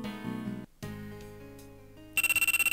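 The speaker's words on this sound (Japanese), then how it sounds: "あ、電話だ。" A phone ringtone from the Tennis no Oujisama dating game Motto Gakuensai no Oujisama cuts in loud and pulsing after a stretch of soft background music, repeating in rapid even bursts.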